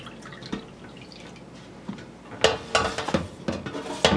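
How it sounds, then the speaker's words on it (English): Rendered bone marrow fat being poured through a sieve while making bone marrow mayonnaise, heard as soft drips and clinks of metal and utensils that grow into louder splashing pours in the last couple of seconds, close by without talk. "We're just going to drain the fat off a little bit. Pour this through the sieve."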